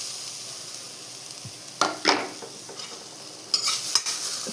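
Grated coconut roasts over a low flame in a pan while a spoon stirs it, producing faint scraping strokes and soft bursts of sizzle that come in short clusters close by, with no voices.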